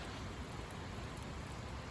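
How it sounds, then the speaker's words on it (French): A March afternoon rain shower pours down steadily in a dense, even hiss of drops on surfaces, faint and continuous throughout with no talk. "Deuxième partie de l'averse. Ça pleut."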